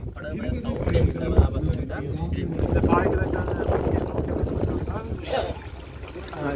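A fuel-free BBQ tour boat glides across the water off Mandaitivu. Its steady rushing wash blends with gusts of wind noise, and someone talks over it throughout.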